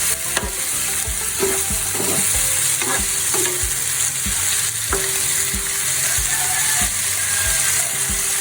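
Squid frying in a pan for adobo, a loud, steady sizzle up close with periodic scraping and clacking of a spatula against the pan, no one speaking.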